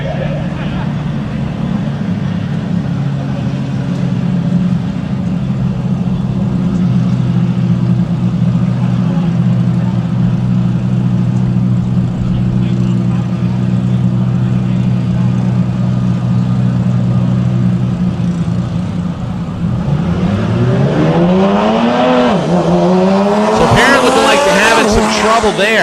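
Drag race cars at a DCT World Cup qualifying session, engines holding a loud steady burbling idle for a long stretch, then revving hard and rising sharply near the end as a commentator talks.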